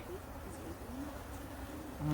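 Honey bees buzz steadily around stacked hive boxes, a dense, low droning swarm that stays close and constant throughout, with faint outdoor ambience and no clear talk.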